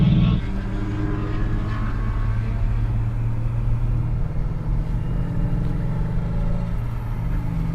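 A BMW 335i with an N54 engine and a supercharged E39 M5 with an S62 engine in a roll race: a loud, continuous low engine drone with a steady rumbling roar that holds for nearly eight seconds with no voices.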